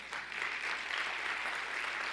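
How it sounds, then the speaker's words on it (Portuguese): A church congregation claps in praise, a continuous, moderately loud wash of many hands held steady for about two seconds with no voices over it. "Então aplauda o Senhor."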